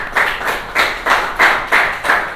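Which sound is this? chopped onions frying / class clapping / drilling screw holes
class clapping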